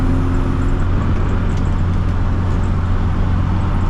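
A 1965 Austin Mini Cooper S in fourth gear at about 80 kph with the windows closed: a loud, steady engine drone and road roar heard from inside the cabin, continuous with no talk.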